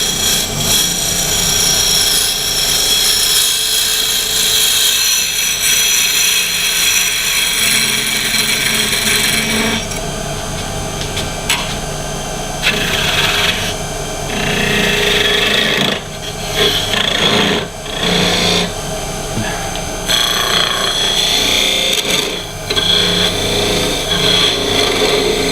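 Loud continuous scraping and rasping of a skew chisel parting off spinning wood on a lathe, with shifting intensity and brief interruptions as the cut progresses.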